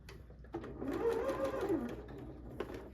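A sewing machine stitches a seam on a Halloween wreath pillow. It runs in a quick, even whirring burst for about two seconds, then slows and stops, with no talking.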